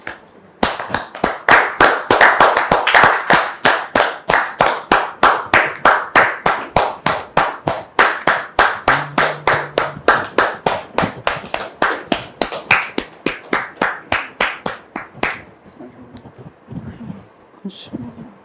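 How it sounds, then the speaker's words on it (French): Strong, rhythmic audience clapping welcoming a guest onto a televised talk show set, a long run of sharp, evenly spaced claps in unison that carries on steadily before stopping abruptly near the end. "Merci de recevoir notre frère sous vos applaudissements."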